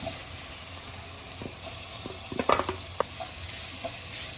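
Egg stir-fried with vegetables and soy sauce over a high flame, with a steady soft sizzle and hiss under a few brief scraping stirs near the middle of the clip.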